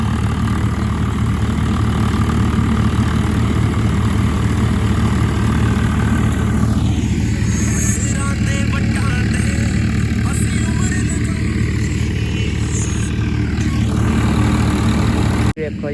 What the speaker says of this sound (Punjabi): ਆਵਾਜ਼ ਬਹੁਤ ਹੀ ਅਦਭੁਤ ਹੋ ਗਈ ਟਰੈਕਟਰ ਦੀ